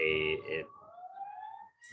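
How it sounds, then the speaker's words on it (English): A siren wails in the distance, its tone sliding slowly upward after a voice speaks briefly. "My apologies if you hear the sirens in the background"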